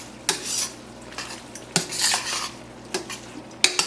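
A utensil scrapes and clinks against a pan as heavy cream is stirred into pappardelle pasta, loud and close, with several sharp metallic knocks over a soft sizzle.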